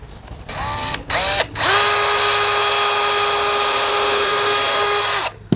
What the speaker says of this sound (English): we're going to pre-drill the holes